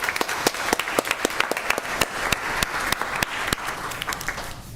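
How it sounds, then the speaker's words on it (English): A small audience at a school district board of education meeting claps in a sparse round, individual hand claps distinct and close, fading out at the end. "Let's give her another round of applause."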